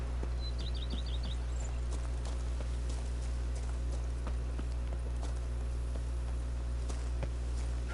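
Hooves of Roach, a horse in the video game The Witcher 3: Wild Hunt, clip-clop steadily at a walk over a constant low ambient drone, with a brief bird chirp near the start.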